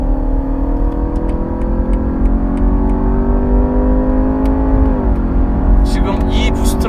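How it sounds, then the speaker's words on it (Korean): A BMW 530e plug-in hybrid in boost mode, with its combustion engine and electric motor both at full output, accelerates hard, its engine drone rising steadily and loud from inside the cabin before a shift. "이 부스트라고 해서 이 내연기관과 전기모터가 최대치로 지금 가속을 하고 있는 거거든요"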